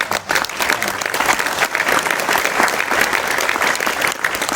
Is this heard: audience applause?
yes